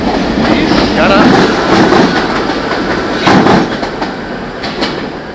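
A New York City B train subway ride with a steady rumbling roar of the car, rhythmic clickety-clack of wheels over rail joints and occasional rattles, loud and close throughout.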